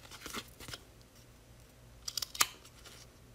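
Scissors snip through applique fabric, cutting out a shape slowly along a drawn line: a few faint crisp snips early on, then a quick cluster of sharper cuts near the end, close by and quiet.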